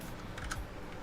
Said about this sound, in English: I'm typing stuff out as if it's not the interface.